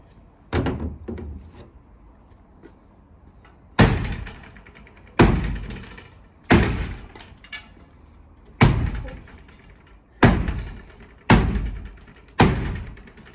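Hammer blows during the removal of a garden shed, heavy wooden thuds landing one at a time at uneven intervals, about eight strikes close by with a short ringing decay after each and no talk.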